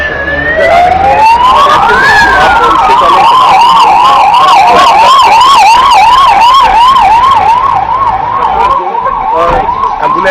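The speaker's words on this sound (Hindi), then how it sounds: "एम्बुलेंस है वो यहाँ से निकल रही है" An ambulance siren wails loudly and continuously during a civil defence mock drill, its rising tone giving way to a rapid repeating yelp pattern, close and dominant throughout.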